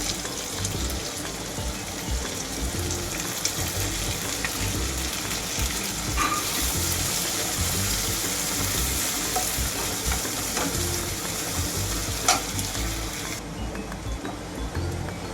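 Chopped onion sizzling in a hot pan for a brinjal dish, a continuous loud hiss and crackle with occasional stirring scrapes, steady throughout with no talking.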